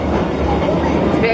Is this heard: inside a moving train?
yes